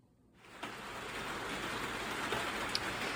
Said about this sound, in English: it is raining like usual in April in Nova Scotia